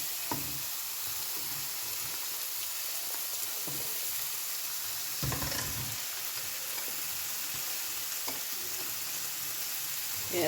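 Couscous stirred in a pot on the stove, with soft, irregular scraping strokes and a quiet sizzle underneath, plus a few louder scrapes spaced through the stretch.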